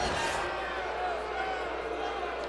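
A basketball arena crowd reacts unhappily to a charge call, a broad sustained murmur with a louder swell at the start, heard beneath a commentator talking.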